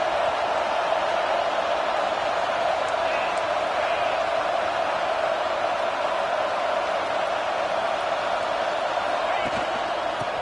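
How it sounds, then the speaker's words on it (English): Football stadium crowd roaring in a steady, loud, unbroken wash of cheering and noise throughout, with no distinct peaks, filling the whole stretch. "this crowd coming to life here"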